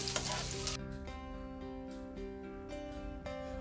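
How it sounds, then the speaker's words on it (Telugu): Onions and bay leaves fry in two spoons of oil in a pan for a chicken curry, giving a loud, dense sizzle at first that drops back under steady background music. "బిర్యానీ ఆకులు వేసిన తర్వాత ఉల్లిగడ్డ కూడా అందులో వేసి ఫ్రై చేయాలి."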